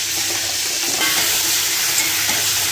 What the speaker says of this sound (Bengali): আগে চিকেনটাকে একটু ভেজে নেই